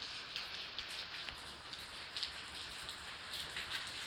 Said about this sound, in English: This is what it takes to get the dog to go potty when it's raining.